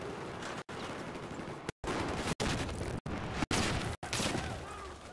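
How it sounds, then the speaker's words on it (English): Continuous video game combat, with loud, dense bursts of gunfire and explosions rumbling back to back, broken by a few abrupt cuts to silence. "I don't like these explosions."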